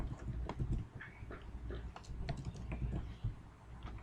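Computer keyboard typing Python code for a PyQt window application: quiet, fast, irregular key clicks over a steady low room hum, with no voice.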